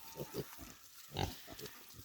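Pigs on a farm grunt close by in short, uneven bursts, with one louder, denser cluster of grunts midway and softer snorts scattered around it.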